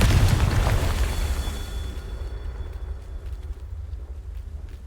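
A fiery Confringo spell explodes in Hogwarts Legacy, a loud booming blast with a deep low rumble that rolls on and slowly fades over several seconds, alone with no talk.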